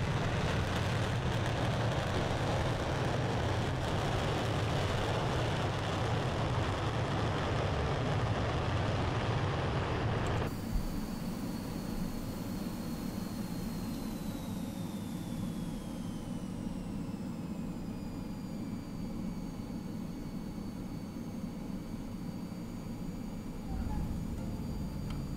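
An airplane comes in to land, heard as a loud steady engine and wind roar that suddenly thins into a quieter hum with a high descending whine, with no talk.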